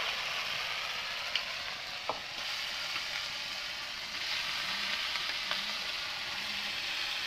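Chicken pieces fry in a pan of spiced tomato masala, giving a steady, close sizzle with a few faint clinks of stirring and no voices.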